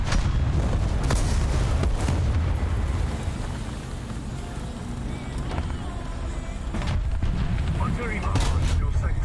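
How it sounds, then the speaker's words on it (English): Distant artillery barrage in the War Thunder tank game, a continuous rumbling roar of shell impacts with a few sharper booms, under game radio chatter and talk. "Artillery barrage in your sector"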